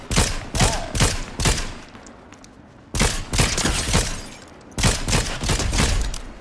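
Bursts of rapid explosive sniper rifle fire in the video game Fortnite, three loud clusters of sharp cracks and booms separated by brief pauses, with no talking.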